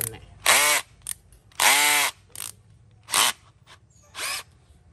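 A Bosch PS31 cordless drill is triggered in several short, loud bursts. Each burst has a rising and falling motor whine, separated by quiet gaps with faint handling clicks.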